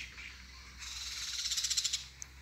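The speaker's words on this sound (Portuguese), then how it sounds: "É zoada demais. É tudo solto na natureza. Olha o tanto de passarinho" Wild macaws and toucans call out in the open. A rapid run of repeated calls builds and fades, faint and distant, over a quiet background.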